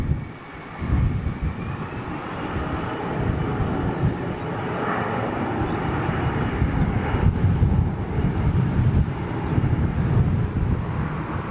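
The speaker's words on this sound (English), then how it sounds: "Is that TAP 330 Neo?" A TAP Air Portugal Airbus A330neo airliner passes overhead, its steady broad jet roar filling the whole stretch at moderate distance, mixed with some wind buffeting on the microphone and no talk.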